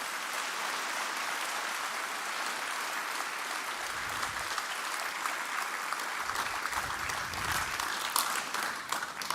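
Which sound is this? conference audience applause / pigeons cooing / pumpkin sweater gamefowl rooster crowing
conference audience applause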